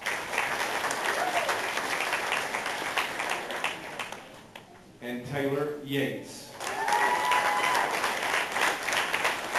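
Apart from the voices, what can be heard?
applause for seniors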